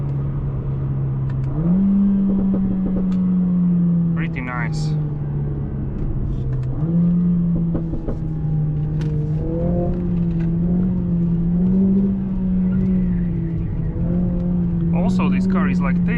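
A 2023 Mercedes CLA 45 S AMG Coupe drives along with a steady engine drone that steps up and down through gear changes, scattered with a few crackling exhaust pops, while a person speaks briefly.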